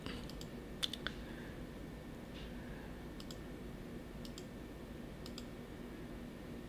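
A computer mouse clicking during software setup, a few faint, sharp clicks spaced apart over a steady low background hiss.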